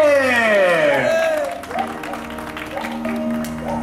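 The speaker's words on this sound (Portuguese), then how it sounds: "Palmas pra Rosimeire" Applause from a party crowd celebrating a woman, a broad wash of clapping that fades down while a loud voice and music-like tones ride over it.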